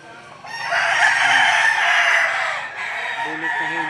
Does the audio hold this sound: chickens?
yes